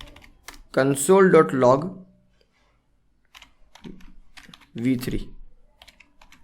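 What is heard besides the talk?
typing code on a computer keyboard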